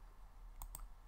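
Two quick, faint computer mouse clicks close together, isolated over a quiet background hum.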